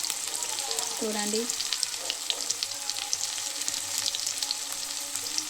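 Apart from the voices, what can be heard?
onions frying in pan for egg fry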